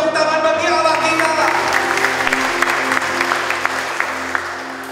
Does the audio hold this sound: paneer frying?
no